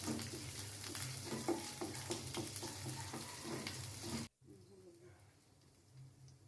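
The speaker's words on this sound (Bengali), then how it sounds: "এগুলোকে একটু ভালো একটু একটু ভেজে নিতে হবে।" Chopped ginger with green chilli frying in a pan for an aloo samosa filling, a steady close sizzle with small stirring scrapes that cuts off abruptly near the end, leaving quieter kitchen background.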